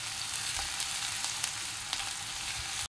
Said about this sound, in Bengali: পেঁয়াজটা আমি একটু গোল্ডেন ব্রাউন করে ভেজে নেব।